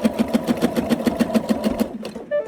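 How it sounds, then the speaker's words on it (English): A sewing machine bastes a layered quilt sandwich of backing and fabric, running a quick, steady burst of stitches for about two seconds before stopping, close and clear with no talk. "So either before you turn your fabric or after you, let me sew it to the end"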